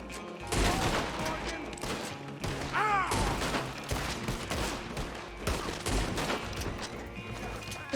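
Gunfire from a gun in Red Dead Redemption 2 cracks out in rapid, loud bursts and single shots across the stretch, with a short whistling, ringing sound in the middle and game noise in between.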